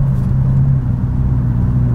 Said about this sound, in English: Oh, that turbo sounds so good.